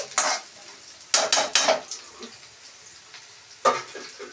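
Onions being stirred in a cooking pan, with a few sharp scraping clatters of a utensil against metal over a faint background sizzle.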